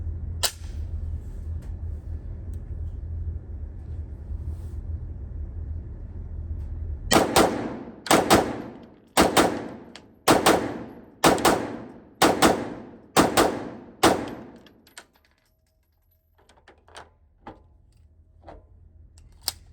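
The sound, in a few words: Walther PDP Pro SD pistol firing 15 rounds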